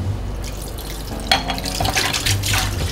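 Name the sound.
washing dishes under running tap water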